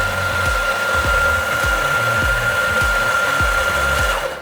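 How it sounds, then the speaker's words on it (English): The R1 coffee machine grinds coffee for espresso with a loud, steady motorized whine and a sustained high hum, punctuated by regular low thumping pulses, close up and continuous, tapering off at the end. "So we want to grind the coffee."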